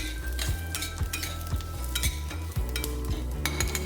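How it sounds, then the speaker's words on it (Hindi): Whole fenugreek, cumin, coriander seeds and a pinch of asafoetida roast in a pan for sambhar masala, with a steady dry sizzle and repeated scraping strokes of a spoon stirring at a regular rhythm, close and alone. "अब हम इसमें डाल देते हैं मेथी, जीरा, थोड़ी सी हींग और खड़ा धनिया, और इन सब चीज़ों को भी हम साथ में भूनते रहेंगे।"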